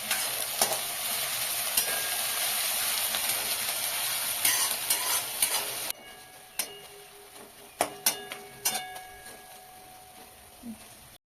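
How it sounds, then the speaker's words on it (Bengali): Onions fry in hot oil in a pressure cooker pan with cinnamon, cloves and bay leaf for chicken biryani, a steady loud sizzle that later quiets, broken by sharp clinks and scrapes of stirring. "পেঁয়াজটা ভাজা হয়ে গেছে, আমি চিকেনটা দিয়ে দিলাম।"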